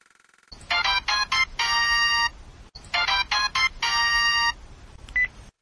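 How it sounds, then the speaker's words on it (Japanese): A telephone ringtone plays inside the Touhou Puppet Play video game: a loud electronic melody with a bright beeping tone sounds twice in identical phrases, then gives way to a brief faint blip, and nobody speaks. "そんな彼女の元に、一本の電話がかかってきたのであった。"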